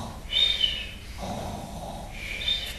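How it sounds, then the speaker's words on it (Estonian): Loud snoring, with two rasping inhale-exhale snores separated by a short pause, close and clear over a quiet background. "Norskavad nii kõvasti."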